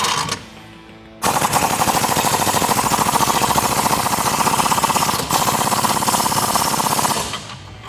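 A socket tool tightens suspension bolts on a 2011-2020 Dodge Challenger R/T during an Eibach Pro-Plus kit install, giving a loud, rapid, continuous hammering rattle. It starts abruptly after a quiet moment, runs with one brief gap, and then fades out.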